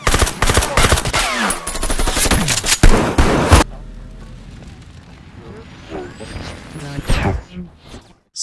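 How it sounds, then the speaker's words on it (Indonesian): Dense, loud automatic gunfire rattles in rapid bursts during a heist-film shootout, then gives way after a sharp cutoff to quieter scattered shots, and a voice speaks over it. "Alhasil, baku tembak pun terjadi."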